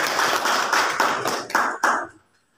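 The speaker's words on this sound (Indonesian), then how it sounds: "Sebelum kita tepuk tangannya." A class of children clap their hands together in a classroom, several rhythmic bursts of group clapping that end in a final clap before fading out, with no talking.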